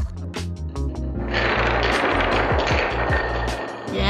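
A line of dominoes topples over a crossing in a rapid clatter of small clicks, starting with a few separate taps, then building into a dense, loud rattling cascade close by that runs to the end.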